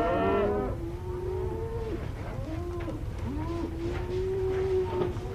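Longhorn cattle moo repeatedly, several drawn-out lowing calls one after another at close range, over a constant low rumble from the herd's surroundings.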